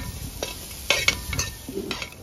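Crushed garlic, not made into a paste, stirred into hot oil in a pan for Kerala-style pork varattiyathu: soft sizzling under a steady frying hiss with a few scraping spoon strokes and light metal clinks, close and alone.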